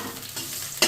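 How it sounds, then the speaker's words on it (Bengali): Eggplant and pointed gourd fry in oil in a home kitchen, giving a short, soft sizzle with light stirring, then a sharper scrape or splash of hot oil at the very end. "বেগুনটা আর পটলটা আমি এটার মধ্যে ভেজে নিচ্ছি"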